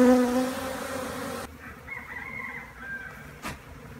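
A swarm of honeybees buzzing during a swarm capture, a steady insect drone that runs under the whole stretch, louder at first and then dropping to a softer hum with a brief swell near the end.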